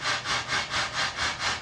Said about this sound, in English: An old steam locomotive moves from the west towards the dawn.